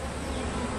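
A dense, steady insect buzz of many Italian honey bees swarming close by at a hive, continuous and fairly loud with no pauses.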